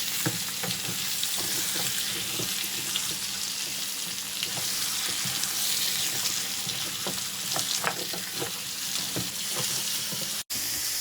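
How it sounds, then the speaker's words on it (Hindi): Beef meat frying with onions in a pan, a continuous close sizzle with repeated stirring scrapes and a faint running-water hiss, no voices. "गोश्त को हम प्याज के अंदर 2 से 3 मिनट फ्राई कर लेंगे।"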